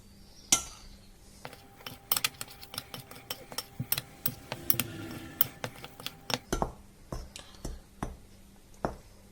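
Flour, yeast and other ingredients mixed in a bowl for crusty bread, giving faint, irregular clinks and taps of a utensil against the bowl, close by and quiet.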